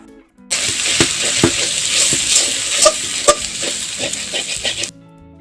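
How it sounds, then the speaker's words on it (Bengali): Egg stir-fried with onion, chilli, garlic and tomato sizzles loudly in a pan while a spatula scrapes and taps in an irregular rhythm, close up, with no talking. "ডিমটা আমি পেঁয়াজ মরিচ রসুন টমেটোর সাথে ভালোভাবে কিছুক্ষণ নেড়ে নিব"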